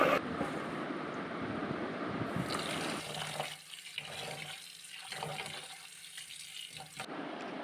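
Jeerakasala rice is rinsed under a running tap, heard as a close, fluctuating gush of water with sloshing and swirling as grains are stirred, broken by brief quieter pauses.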